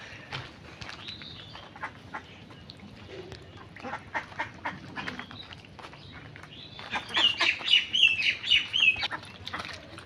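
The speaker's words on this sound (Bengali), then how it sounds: "দেখেন শামুক পেয়ে হাঁসগুলো সবগুলো নিচে নেমে গেছে শামুক খাওয়ার জন্য।" Ducks in Bangladesh head down to feed on snails, quacking and chattering nearby, growing louder and busier toward the end amid light rustling.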